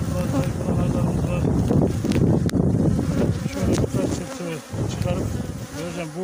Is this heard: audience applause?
no